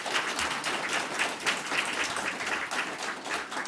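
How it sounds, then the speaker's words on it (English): Applause from a small audience at a town mayoral candidate forum in Christiansburg: continuous, moderately loud clapping with a fairly even texture throughout. "Can we give our candidates a round of applause?"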